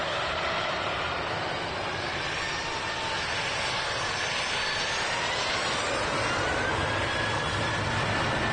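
A Boeing 737-900 at Manchester Airport gives a continuous loud jet-engine roar with a broad rushing hiss and a slowly rising whine, steady throughout, heard from a distance outdoors.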